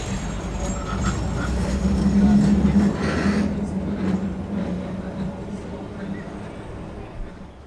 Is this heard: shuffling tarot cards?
no